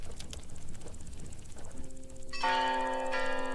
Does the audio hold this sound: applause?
no